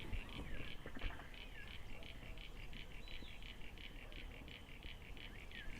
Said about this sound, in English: That's Crinia signifera, the common eastern froglet.